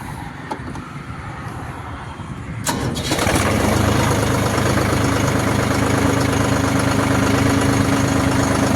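A Deutz-Fahr Agromaxx 50 Turbo tractor engine cranks and catches after a few quiet seconds, then settles into a loud, steady diesel idle close by.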